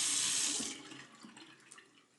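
Hot water runs steadily from a tap fed by a Navien tankless water heater, a loud rushing stream at first that gradually softens and thins toward the end.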